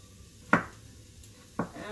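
Two crisp knife chops hit a cutting board about a second apart while slicing zucchini into thin half-moon slices in a home kitchen, with a low background hum between them.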